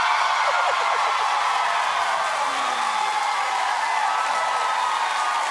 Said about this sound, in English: Keep clapping, we've got a great show for you.